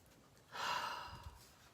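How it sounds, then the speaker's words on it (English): A person takes one long, close sniff of a scented wax melt, a breathy inhale rising and fading over about a second in a quiet room. "1, 2, 3, sniff."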